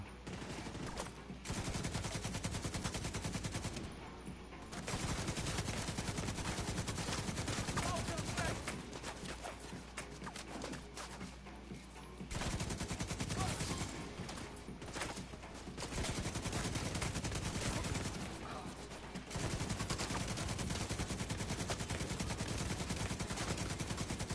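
Turret gunfire in the video game Tom Clancy's The Division 2, loud sustained automatic bursts that come in long stretches with brief pauses between them, while someone talks over the fighting.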